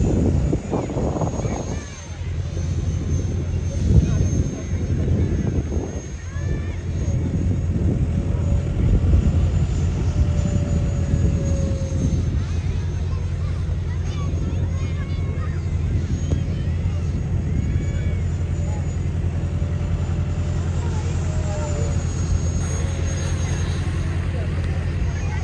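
Aircraft flying in formation at an air show give a steady, distant drone with faint engine tones drifting in pitch, while people talk over it throughout.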